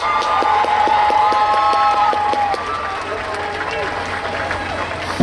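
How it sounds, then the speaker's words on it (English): An audience applauds senior class advisors at a Charles W. Baker High School commencement for the class of 2022, with loud clapping and voices rising over it, then tapering to a softer patter. "We can give them a round of applause."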